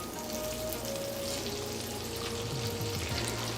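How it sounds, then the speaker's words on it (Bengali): Tripe frying over high heat gives a steady, close sizzle with a bubbling, watery edge, faint tonal hums running underneath, and a small knock at the very end. "হাই হিটে ভুঁড়িটাকে ভেজে নিতে হবে"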